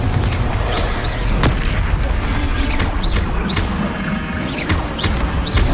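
Confringo spell blasts in the video game Hogwarts Legacy land as repeated booming, crashing impacts over a constant dense wash of battle noise, with no clear gaps between hits.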